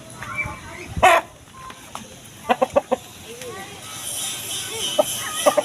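A big chicken clucks close by in a series of short, sharp bursts, a few in quick succession. There is a quieter background of other fowl and faint voices.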